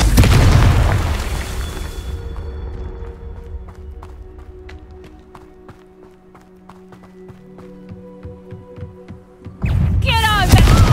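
Confringo spell explosion in the Hogwarts Legacy video game: a deep booming blast at the start that decays into a long ringing hum with faint ticking, then another loud burst near the end.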